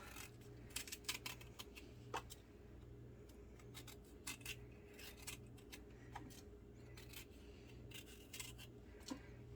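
Horseradish root is peeled and shaved with a blade, giving faint, close scraping strokes in an uneven rhythm over a quiet, steady low hum.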